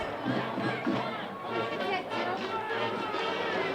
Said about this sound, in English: Very good crowd for the Cards tonight, cheering on the home team.